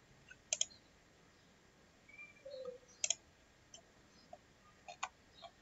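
Computer mouse clicks while components are placed in Proteus circuit simulation software: three short, crisp double-clicks spaced a couple of seconds apart, close and fairly quiet, with faint background hiss and no talking.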